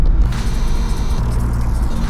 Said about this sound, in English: Today we are finally taking the Galant out for a bit of a spin